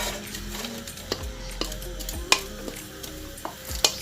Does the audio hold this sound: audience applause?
no